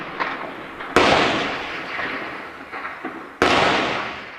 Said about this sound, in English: They are shooting at everyone, even children.